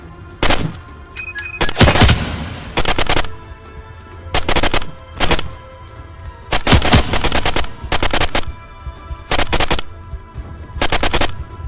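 Repeated loud bursts of gunfire from a VR shooter game, Wanderer: The Fragments of Fate, arriving as about ten separate volleys of rapid shots with short gaps between them and no talking.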